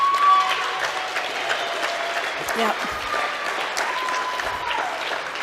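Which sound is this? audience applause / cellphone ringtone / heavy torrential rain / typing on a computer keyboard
audience applause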